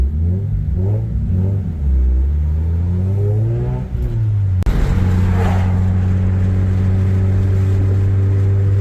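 A rotary-engine car runs on a highway with a loud, close engine note that sweeps up and down through gear changes before settling into a steady droning cruise.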